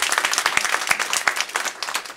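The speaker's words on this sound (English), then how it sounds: "Could you give him a big round of applause here?" An audience at the opening of a health center claps in a quick flurry of overlapping hand claps, moderately loud and steady throughout.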